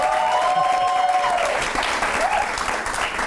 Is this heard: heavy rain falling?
no